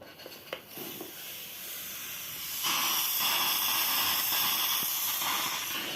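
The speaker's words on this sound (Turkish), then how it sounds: "Buraya bastığımızda buharımız atmaya başlayacak." An H2O X5 steam mop releases steam. After a few faint clicks and taps, a broad, steady hiss starts about halfway through and keeps going, close and louder than the quiet lead-in.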